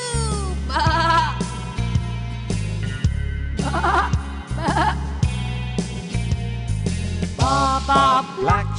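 Cartoon sheep bleats repeatedly in an animated children's nursery-rhyme story, the wavering bleats standing out loud and close over a steady musical backing throughout.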